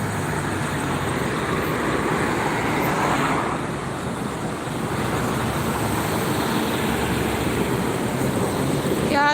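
Heavy, slow-moving highway traffic at KM 57 heading toward Jakarta during the 2024 Lebaran return rush: a steady, dense roar of engines and tires with no gaps, close and loud throughout.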